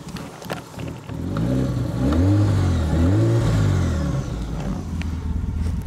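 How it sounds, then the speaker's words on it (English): A BMW E34 car engine revs up and holds a loud, rising, wavering drone for several seconds close by, then eases back slightly, with no talk over it. "I'm gonna rev this one uh, one more time so you can hear it better"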